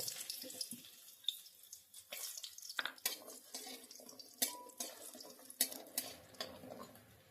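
Tap water runs steadily into a sink while vegetables are rinsed before cooking Bengali shukto in a home kitchen, with splashes and small knocks of handling over the continuous flow, close and fairly quiet.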